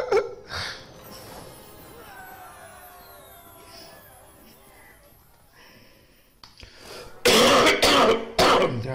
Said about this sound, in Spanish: Ya va a empezar con la tos.